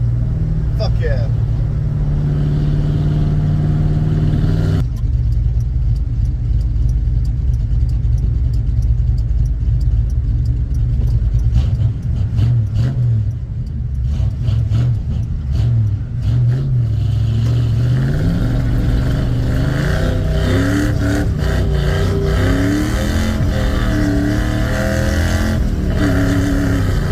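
A Ford F100 truck engine with a freshly tuned carburetor rumbles steadily, then revs and accelerates with rising and falling pitch, loud and close throughout, with a voice speaking over parts of it.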